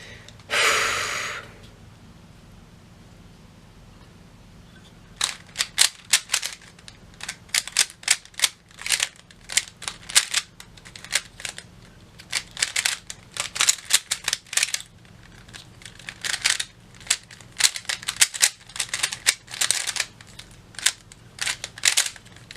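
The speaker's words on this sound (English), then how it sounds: "It's like clacky. It's hard to control where I want it to go." A budget D-Fantix Shaolin Popey Rubik's speed cube clacks through a solve, with rapid bursts of sharp plastic clicks in irregular clusters after a quick breath at the start, close and fairly quiet.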